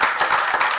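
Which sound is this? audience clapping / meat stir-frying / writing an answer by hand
audience clapping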